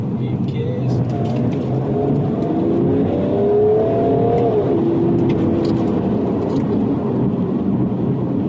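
BMW 335d or 430d diesel engine revs rising and falling through paddle-shift downshifts, a steady close cabin drone with a voice talking over it.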